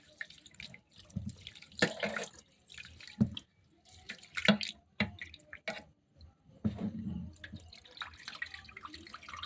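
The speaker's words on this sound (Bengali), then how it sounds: "এবার চালটা ধুচ্ছি চাল ডাল মিশিয়ে ধুয়ে নিচ্ছি" Rice and lentils being washed together by hand under a running tap, water splashing and swishing in irregular bursts with short pauses, close and moderately loud, no talking.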